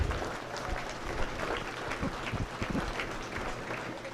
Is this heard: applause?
yes